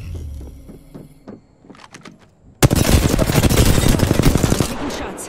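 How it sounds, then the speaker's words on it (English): Rapid gunfire hits the player in Apex Legends, a loud sustained burst of dense automatic shots that starts abruptly after a few quieter isolated clicks and keeps rattling steadily to the end. "I'm taking shots."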